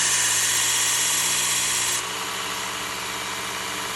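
A Work Sharp Ken Onion Elite sharpener runs its belt against kitchen shears, a steady motorized whir with a bright grinding hiss that drops off abruptly halfway as the blade leaves the belt.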